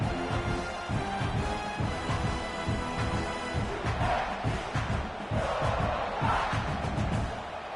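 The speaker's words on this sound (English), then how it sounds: "And this crowd coming to life here, trying to help the defense get a stop" A football stadium crowd roars during a college game between South Carolina and Clemson, a dense sustained mass of voices with swelling cheers rising through the middle and end.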